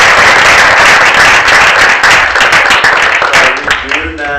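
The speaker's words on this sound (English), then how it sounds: "Let's give them a round of applause." An audience applauds at a low-tech innovation prize-giving ceremony, a dense, loud burst of clapping that gradually thins out, with voices and chatter rising over it toward the end.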